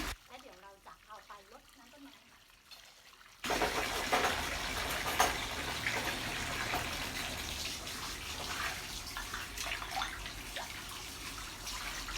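Tap water running into a basin while dishes are washed by hand, a steady close gushing rush that starts abruptly after a few seconds of someone speaking, continuing with light clinks.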